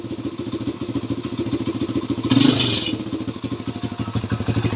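BMW 320i engine running roughly on choke, a close rapid uneven thumping idle with a brief surge of hiss and clatter midway.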